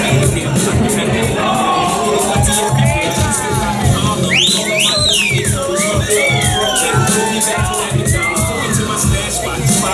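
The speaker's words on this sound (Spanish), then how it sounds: "Fuerte el aplauso para Alberto." A crowd at a talent round of a pageant contest in Chile applauds, cheers and whoops, a loud sustained roar with whistle-like shouts rising over it.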